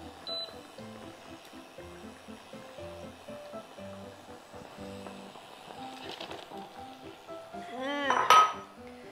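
Eggs placed into a pot of water with tea, caramel and vinegar for boiling, with soft clinks and knocks of eggs and utensils against the pot and a louder clatter near the end, close and under a quiet background.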